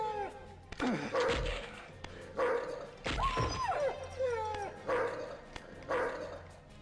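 Dog barks from the Wolfenstein 3D video game on 3DO, a repeated series of loud barks and yips at regular intervals, mixed with game sound effects and a low hum, no talk.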